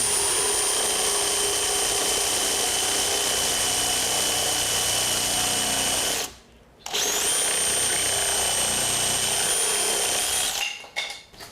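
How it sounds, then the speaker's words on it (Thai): A power tool fitted with a wood-cutting blade whines at a high steady pitch while cutting wood, running loud and continuous, stopping briefly, then resuming before winding down with a few short bursts. "นี่ใบตัดไม้นะครับ"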